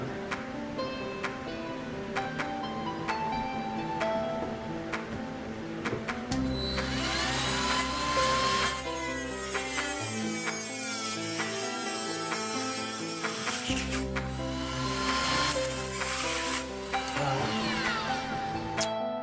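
A small Dremel rotary tool trims a crawler chassis, its steady whirring whine running almost continuously and rising in intensity and pitch partway through, with brief dips as the cut pauses and resumes.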